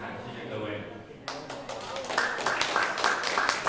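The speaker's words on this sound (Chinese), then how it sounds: "谢谢热烈的掌声" Audience applause with scattered hand claps at a brass quintet concert held in an ink-painting exhibition hall, starting quietly and then swelling into a dense run of claps, while a voice speaks over them.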